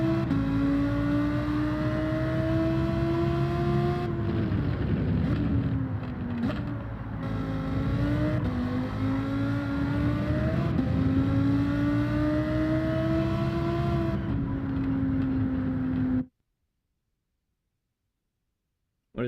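A racing car in Gran Turismo 7, its engine whine climbing and dropping with repeated pitch dips as it brakes into corners, loud and steady throughout before cutting out abruptly near the end.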